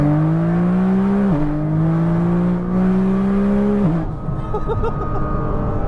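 A 2000hp Nissan GTR pulls hard in second gear, engine drone climbing steadily with a brief dip at a shift, then rising again before easing off into road and cabin noise.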